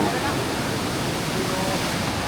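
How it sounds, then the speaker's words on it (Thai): Kruat Krong waterfall in a wildlife sanctuary, a constant broadband rush of falling water, loud and close, steady without any break. "น้ำตกปวดกองนะครับ"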